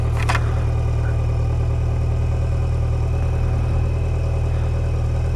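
A motorcycle left outside runs steadily with a low, even engine drone and a weak, unimpressive note, heard alone and fairly loud throughout.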